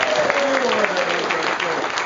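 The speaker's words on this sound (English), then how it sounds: "let's have a round of applause for that kitchen crew," Applause for a restaurant kitchen crew at a Grandsons of Italy Man of the Year banquet in 2011: steady, dense clapping filling the room throughout, with faint voices underneath.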